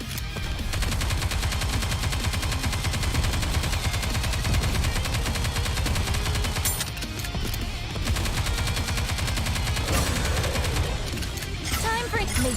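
Sustained automatic gunfire from the video game Nikke, a continuous rapid stream of shots running for over twelve seconds, loud and dense, briefly thinning near the middle and end.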